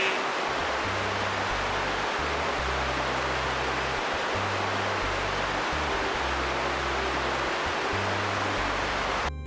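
A forest waterfall, a dense, continuous rush of falling water heard close and loud throughout, with a low steady rumble underneath and no voices.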